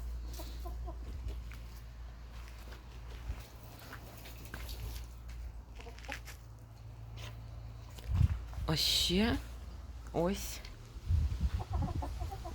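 Chickens cluck and murmur nearby in short bursts over low background rumble, with a few louder squawks and a brief spoken remark.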